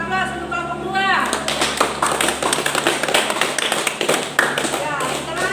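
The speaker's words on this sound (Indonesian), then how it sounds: "Berikan aplaus untuk kelompok 2." Classroom applause for a student discussion group after their presentation: a burst of dense, close clapping that starts after a second and carries on steadily to the end, with a voice briefly heard at the start.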